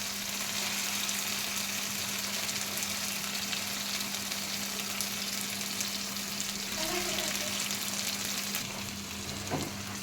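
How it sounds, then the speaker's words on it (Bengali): Hilsa fish frying in an onion-tomato masala gives a steady, close, continuous sizzle that holds for about ten seconds, with a faint low hum underneath and no talking. "এখন এটার মধ্যে আমি মাছগুলি দিয়ে দিব।"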